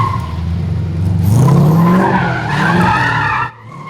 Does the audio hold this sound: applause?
no